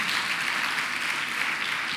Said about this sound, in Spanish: Dele fuerte ese aplauso al Señor Jesús.